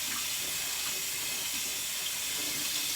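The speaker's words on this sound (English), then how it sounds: "So I'm just giving these a good rinse." Lentils rinsed under a running tap, a steady, fairly loud rush of water splashing into a sink without pause, no talk.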